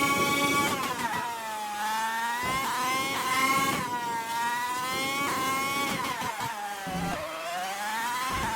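A 2010 McLaren Formula 1 car races around Albert Park in a racing video game, its engine screaming at high revs in a continuous loud whine that rises and dips through repeated gear shifts.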